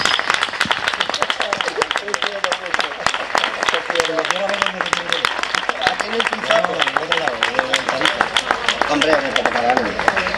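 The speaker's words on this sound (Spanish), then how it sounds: "dar un aplauso" Live flamenco audience in Seville clapping and applauding steadily throughout, a dense crackle of many hands close by, with singing and talk carried over it.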